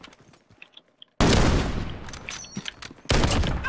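AX-50 sniper rifle gunfire in Call of Duty: Modern Warfare: after a quiet start, loud sharp shots burst in abruptly, followed by rattling echo, then another hard shot near the end.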